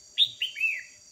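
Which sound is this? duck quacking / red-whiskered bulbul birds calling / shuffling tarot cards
red-whiskered bulbul birds calling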